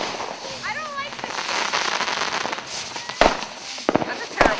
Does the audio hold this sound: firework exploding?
yes